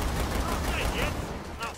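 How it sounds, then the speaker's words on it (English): Rapid gunfire from spitfire guns in Killing Floor 2, a dense, continuous crackling burst that stays close and loud, with game effects layered underneath. "I'm just shooting my spitfires everywhere, and they're freaking burning everything"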